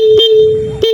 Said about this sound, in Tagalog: Tapos meron din siyang busina.